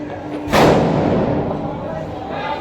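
A Diwali firecracker bomb bursts in one loud, sudden blast at close range, followed by a lingering wash of noise as it fades.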